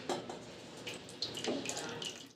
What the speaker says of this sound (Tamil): இது கூட கொஞ்சம் தண்ணி ஆட் பண்ணிக்கலாம்